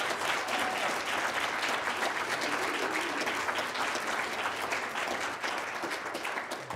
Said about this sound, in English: All right, everybody give them a round of applause.